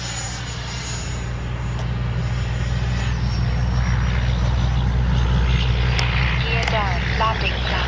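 An FMS Integral 80mm electric ducted-fan RC jet flying, a continuous loud rushing whine that swells as it passes overhead, with the outdoor field's low rumble beneath and faint speech-like traces near the end.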